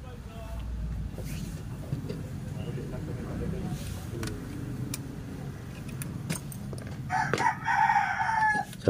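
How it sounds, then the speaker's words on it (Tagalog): A rooster crows behind a house, its call rising near the end over steady room noise and murmuring voices in the background. "Mayroong manok sa likod."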